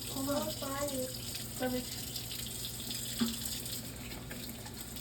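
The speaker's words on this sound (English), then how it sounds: "We'll just rinse it with the hot water." Hot tap water runs over a wood piece being rinsed for a crested gecko enclosure, a steady faucet stream with a brief spoken word near the start.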